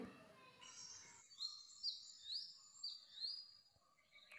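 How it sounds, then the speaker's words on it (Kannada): Morning birds call outside a home, several high chirps and short whistled notes spread across a few seconds, faint against a quiet background after a brief muffled noise at the start. "ಪಕ್ಷಿಗಳು ಕೂಗ್ತಾ ಇದೆ ಬೆಳಿಗ್ಗೆ"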